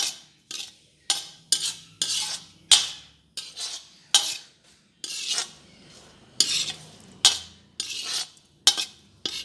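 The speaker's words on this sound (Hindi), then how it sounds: "उसी में हम किशमिश को फ्राई कर लेंगे।" Raisins frying in ghee in a pan on a very low flame, stirred with a spoon that scrapes and clinks against the metal in repeated short strokes, with a soft sizzle between them and no voices.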